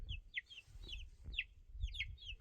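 Chicks in a brooder give repeated high, quick chirps and peeps, several close together in a busy pattern over low background rumble, fairly faint overall.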